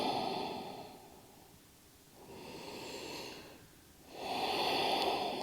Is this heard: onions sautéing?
no